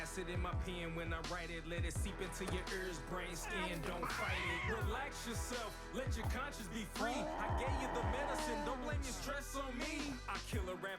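Street cats fight close to a GoPro, yowling and caterwauling in long rising and falling wails over dense, continuous scuffling and background noise.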